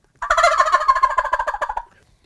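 A deep, throaty turkey gobble imitated on a latex gobble tube call, a single loud close rattling run of quick pulses lasting over a second and a half before cutting off.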